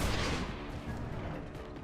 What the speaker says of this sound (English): So I'm going to go ahead and mortar the Muton Elu.